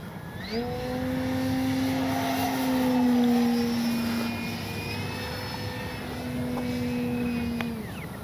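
A 3-metre FMS Fox model glider drones steadily overhead, its pitch sliding and swelling as it passes, loud and continuous with no voices.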